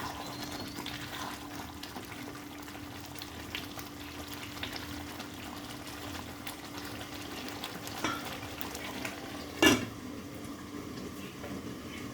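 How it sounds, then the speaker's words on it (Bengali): A spoon stirs mutton dak bungalow curry with Kashmiri chilli in a pan, soft steady sizzling and scraping with a sharper clink of the utensil near the end, fairly quiet and close. "ভালো করে এটা আবার নেড়ে দেবো।"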